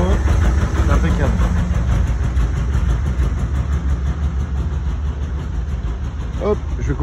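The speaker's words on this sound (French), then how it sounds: "je vais couper le moteur histoire qu'on s'entende" A 1970 Volkswagen T2a Westfalia camper van engine idles steadily with a low, continuous rumble, and voices murmur faintly over it.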